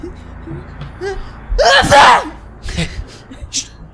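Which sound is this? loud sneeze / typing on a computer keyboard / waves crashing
loud sneeze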